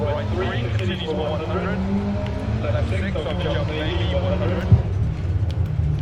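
A rally car's engine revs and accelerates in the DiRT Rally video game, a steady rumbling drone throughout with a person talking over it.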